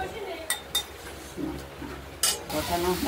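Turmeric and spices stir-fried in oil in a pan for a katla fish and potato curry made without onion or garlic; a soft sizzle runs under a few sharp spoon clinks against the pan.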